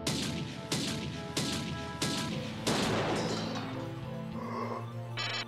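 A magnum pistol in the 1994 video game System Shock fires four loud, evenly spaced shots, each a sharp crack with a ringing tail, followed by a crashing impact and a brief electronic chirp at the end.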